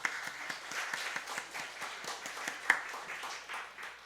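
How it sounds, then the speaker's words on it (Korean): A church congregation at a Sunday worship service claps to welcome newcomers, with steady, evenly paced clapping at moderate volume and one sharper clap standing out midway. "우리 박수로 환영하도록 하겠습니다."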